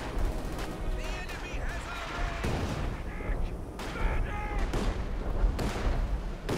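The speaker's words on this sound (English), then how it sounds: "we can just hear the German artillery beginning to fire" German artillery in Company of Heroes 2 fires in repeated heavy thumps amid a busy battlefield mix of explosions and chatter, with a commentator talking over the barrage throughout.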